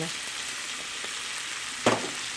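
Herb-seasoned mixture with pepper, herbes de Provence and parsley stirred in a frying pan, giving a steady close sizzle with a brief louder scrape of the spoon near the end.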